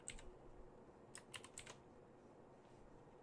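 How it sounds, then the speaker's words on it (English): Faint computer keyboard typing at a home desk: a handful of sparse, soft keystroke clicks scattered over a low, steady background hum. "Let me type in D&D."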